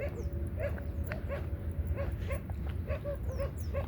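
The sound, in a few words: small bird chirping in a desert garden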